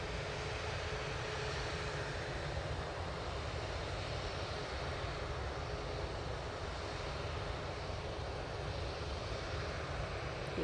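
Ryanair jet airliner at Manchester Airport beginning its takeoff roll, a steady, broad engine roar holding level throughout at moderate distance with no pauses.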